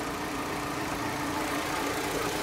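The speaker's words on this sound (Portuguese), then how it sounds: "ele está falhando bastante, tem uma oscilação bem considerável aqui no motor" A Fiat Palio engine idles roughly with a misfire, a dense, steady mechanical rumble heard up close under the hood, continuous and loud with no voices.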